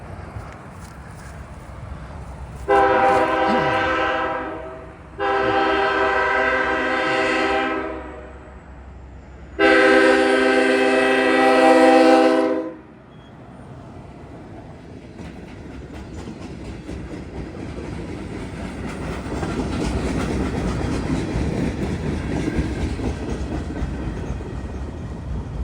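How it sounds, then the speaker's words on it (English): A real train pulled by a truck sounds its horn in three long, loud blasts, then the rumble of the passing train builds steadily afterward. "That was a real train, pulled by a truck."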